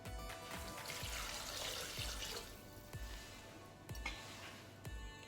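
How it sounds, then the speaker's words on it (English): Water poured into a Thermomix mixing bowl, a steady splashing stream running for several seconds with a few soft knocks, close and quiet. "we're going to add 500 grams of water"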